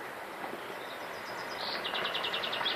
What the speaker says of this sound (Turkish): Bu Bizim için özellikle hususiyetten kuşların sesleri.